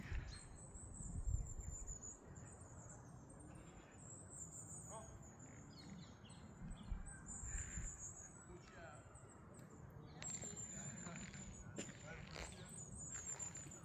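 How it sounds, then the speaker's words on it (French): Shrill, high calls of rose-ringed parakeets ring out intermittently over a quiet outdoor background, with a few softer chirps between the louder screeches. "Alors ici, on a des perruches vertes à collier"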